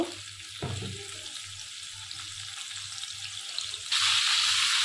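Potatoes frying in hot oil in a pan on a stove while a shing fish curry is being made. A steady, close sizzling hiss runs throughout and grows louder near the end, with a low hum underneath.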